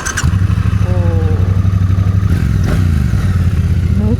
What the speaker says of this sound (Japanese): トライアンフはクラッチを握ってエンジン始動らしい